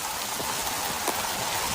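Heavy rain pouring down steadily, a dense, continuous hiss with occasional louder drops, close and loud with no voices.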